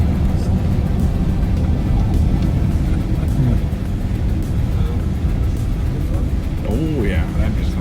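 A Tesla Model S Plaid launches hard from 0 to 60 onto a freeway, heard from inside as a loud, sustained roar of road and wind noise with a faint whine rising near the end.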